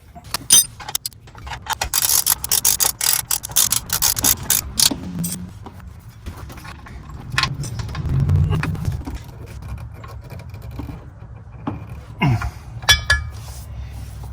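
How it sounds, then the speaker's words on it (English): Motor mount bolts being tightened by hand on a Porsche Boxster 986, close metallic clinks, ratcheting and rubbing clatter of tools in irregular bursts, with short quieter gaps between. "tighten all 3 of these bolts back up"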